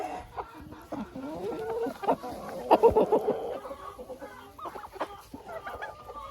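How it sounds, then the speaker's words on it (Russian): Chickens and turkeys cluck and murmur up close while pecking at fresh nettles, soft overlapping calls rising into a busier burst midway, with a voice speaking briefly underneath. "сейчас вот так вот периодически птица кушает крапиву"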